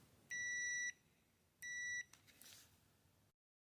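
Two clear electronic beeps from a multimeter's continuity tester on an Owon oscilloscope, each a steady tone under a second long with a short gap between, followed by faint handling clicks and a brief rustle.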